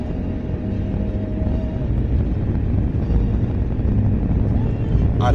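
Steady low rumble of road noise inside a moving car, loud and continuous throughout, with a brief whine partway through.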